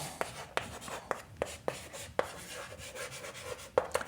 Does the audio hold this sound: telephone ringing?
no